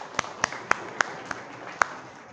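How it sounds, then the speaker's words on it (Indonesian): A few scattered hand claps in a classroom during a teaching practice lesson, six sharp separate claps spread over about two seconds, fairly faint against a quiet room. "Tepuk tangan."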